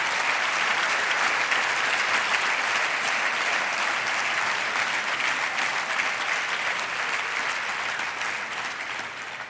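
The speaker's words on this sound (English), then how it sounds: "let's give him a massive round of applause" A large audience at a MotoGP awards ceremony gives Jorge Lorenzo a big, sustained round of applause, a loud, dense, continuous roar of clapping that holds steady and eases slightly toward the end.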